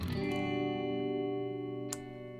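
Guitar through a Chase Bliss Dark World reverb pedal set fully dark: a held chord sustains in a smooth, muted reverb wash, slowly fading, with one faint pick or string noise near the end.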